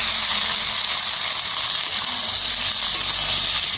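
Chopped tomato sizzles in a pan of fried onion, a loud, steady, close hiss that runs unbroken throughout.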